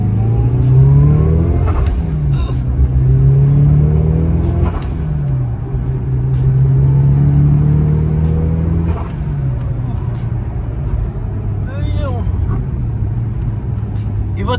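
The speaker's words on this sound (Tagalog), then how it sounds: "Tsaka mabilis siya mag-ramp up yung RPM, no?" A Mitsubishi Lancer Evolution 8 all-wheel-drive engine revs up quickly in several loud, close pulls with shifts between them, its droning note rising and falling while people talk over it.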